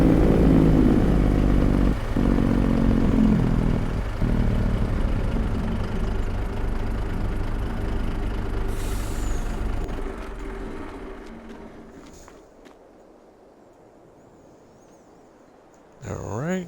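A truck in Farming Simulator 22 drives toward the shop, a low droning engine rumble that slowly fades away, with soft clicks and a sharp burst of sound at the very end.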